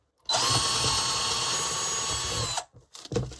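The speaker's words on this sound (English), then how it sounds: "So in 2 places I'm going to drill through." A power drill whines at full speed for about two seconds while drilling through bark, then stops, followed by a few brief scraping and handling noises.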